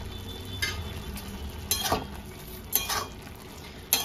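A spoon stirs vegetarian bottle gourd curry mixed with ginger paste in a pan, giving a soft sizzle underneath and several distinct scraping clinks spaced a second or so apart, close by with no talking.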